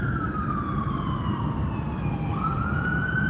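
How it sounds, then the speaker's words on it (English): An ambulance siren passes along a city street, its wailing tone sweeping down and then rising again, loud over a low rumble of traffic. "Now there's ambulance coming."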